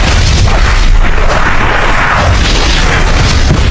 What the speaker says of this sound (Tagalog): Ang nagliliwanag na bilog ay sumabog na nga ng napakalakas